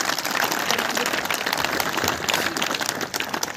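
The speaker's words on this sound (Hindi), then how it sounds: "जोरदार तालियों से हमारी फैमिली में" Vigorous audience applause at a prison program event in a district jail in Poonch, Jammu and Kashmir, a continuous, loud wash of many hands clapping throughout.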